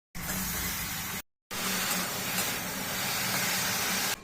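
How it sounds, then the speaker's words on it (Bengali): Potatoes sizzle steadily in hot oil in a frying pan, a loud, close, continuous hiss that breaks off briefly before resuming. "তো এখন আলু ভাজা হচ্ছে"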